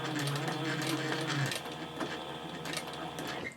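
Sewing machine stitching across a handbag panel, a steady close motor hum with rapid needle clatter that eases slightly partway through.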